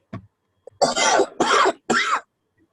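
Someone coughs several times: a small throat sound, then three heavy, rasping coughs in quick succession, close up.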